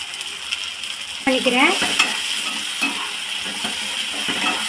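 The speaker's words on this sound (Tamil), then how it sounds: "வெங்காயம் தக்காளியோட பச்சை ஸ்மெல் போகிற வரைக்கும் நல்லா வதக்கிக்கோங்க" Onion and ground tomato sauté in a pan for a mushroom gravy, a steady sizzle with a sharp metallic clink and a few scraping stirs of a spoon, close and fairly loud, no voices.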